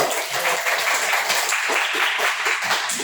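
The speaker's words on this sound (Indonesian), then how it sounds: "Tepuk tangan dulu dong." Classroom applause after a group presentation, a steady wash of many hands clapping together for about three seconds without pause, fairly loud and even throughout.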